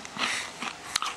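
Kettle-cooked wavy Lay's potato chips bitten and chewed close up, a few short crisp crunches with one sharp snap near the end.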